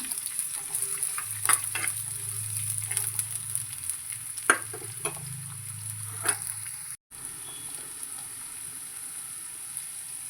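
Sliced onion sautéing in a pan as the base for a fish curry with mango, made without coconut. A soft, steady sizzle runs under intermittent stirring clicks and scrapes, with a brief break near the end.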